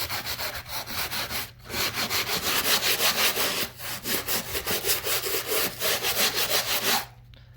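Rhythmic back-and-forth scraping of sanding along a wall seam, loud and close, with strokes repeating about every quarter second in bursts broken by brief pauses.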